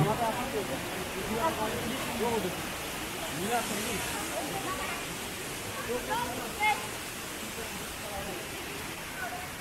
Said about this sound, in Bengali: জলপ্রপাতের জলরাশি গড়িয়ে দূরে ওই কুয়োর মতো গর্তের মধ্যে প্রবেশ করছে।